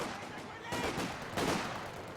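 Infantry gunfire in Company of Heroes 2 crackles in dense bursts of rifle and machine-gun shots, swelling in two rapid volleys over a continuous battle din.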